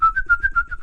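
A voice whistles a short, bright tune in quick repeated notes, imitating a man whistling an annoying tune while walking down a street.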